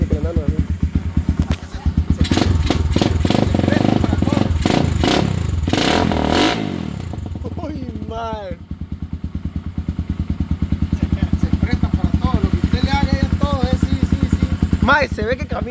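A motorcycle engine revs hard with a raspy, rising roar, then settles into a close, rhythmic idling putter with clattering, while people talk over it.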